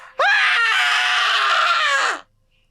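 A ship captain's long, agonized scream in a dramatized horror story, one sustained loud cry lasting about two seconds before cutting off into silence.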